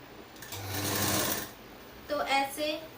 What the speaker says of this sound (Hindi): इसी तरीके से हम दूसरी साइड भी सिलेंगे।